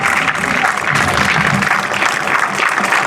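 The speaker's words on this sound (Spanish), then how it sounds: "Vamos a darle un aplauso fuertísimo a la compañera" Loud, dense applause from a crowd at an outdoor memorial plaza reinauguration marking fifty years since the coup, sustained clapping throughout with no pauses.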